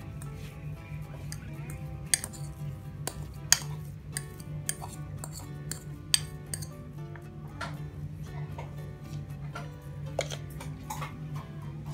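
Boiled potatoes mixed in a bowl, giving irregular light clinks and taps of a spoon against the bowl with soft squishy scrapes between them, close and quiet over a low steady hum.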